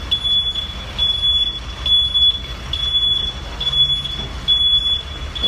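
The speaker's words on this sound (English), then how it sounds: "Yeah, beeping." An electronic alarm chirps in short, evenly spaced high beeps, about one per second, over a low background rumble.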